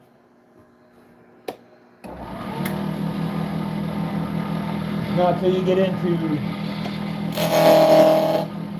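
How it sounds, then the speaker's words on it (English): A machine spins up into a loud, steady mechanical whine and grinding drone, cutting the corners off square metal stock at high speed, swelling with harsh cutting noise near the end; someone speaks briefly over it. "taking corners off of a square segment at high speed"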